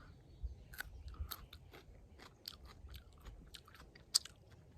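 Crunchy chewing of small, freshly picked garden carrots, close and quiet, with a steady run of soft bites and crunches and one sharper snap near the end, no talking.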